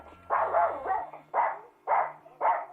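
A dog barks four times in a loud, evenly spaced series, close and clear, with a faint steady hum underneath and no talking.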